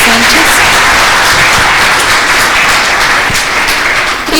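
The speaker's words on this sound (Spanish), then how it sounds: "un aplauso por favor para Mireya Sánchez" Close, loud audience applause fills a talk on literature and gender, thanking guest speaker Mireya Sánchez with dense, continuous clapping that holds steady throughout.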